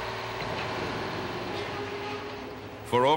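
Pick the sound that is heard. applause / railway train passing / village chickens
railway train passing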